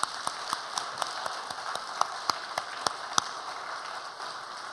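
A church congregation at a women's mission dedication service claps together in a steady, even rhythm. The sharp claps sound moderately distant and ring out over a soft room hiss.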